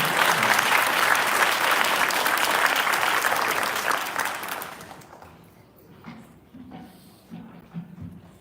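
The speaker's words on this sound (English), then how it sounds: "give her a round of applause as she comes to the stage, our chief deputy, Rhonda Anderson" An audience applauds as Chief Deputy Rhonda Anderson of the Cobb County Sheriff's Office comes to the stage, a dense sustained ovation for about five seconds that then dies away into a quiet room with scattered faint sounds.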